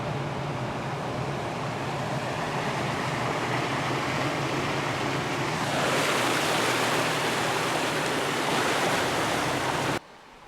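A vehicle fitted with tire chains fords Mill Creek after snow, water rushing and splashing in a steady broadband wash that swells louder partway through, then cuts off abruptly near the end.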